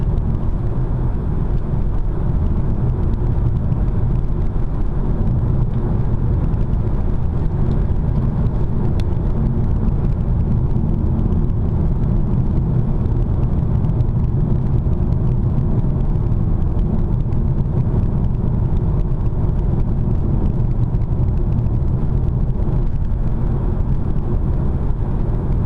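Car interior on Canadian country roads: a steady, loud low rumble of engine and tyre noise continues unbroken throughout.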